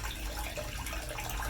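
Water runs steadily from a tap at a house during a septic system inspection after the supply was turned back on, a constant faint broadband rush with no talk over it.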